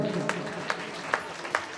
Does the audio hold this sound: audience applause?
yes